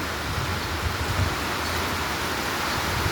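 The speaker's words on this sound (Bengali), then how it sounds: "সব জোরে জোরে বৃষ্টি হচ্ছে" Heavy rain pours down outdoors in hilly country, a steady, dense, even hiss that fills the whole stretch with no breaks and no voices.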